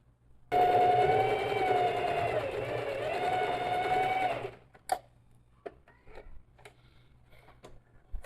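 A sewing machine stitches the final seam on a fabric toiletry bag in one steady, close run of about four seconds, its motor pitch dipping briefly midway, followed by a few small clicks and handling noises.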